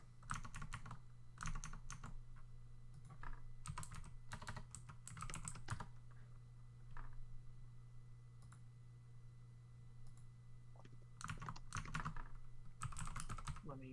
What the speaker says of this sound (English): Let me mute really quick so people don't hear me typing